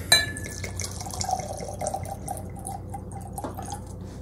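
High-proof blanco tequila is poured into a glass, giving a short splash followed by soft trickling and dripping, close and fairly quiet.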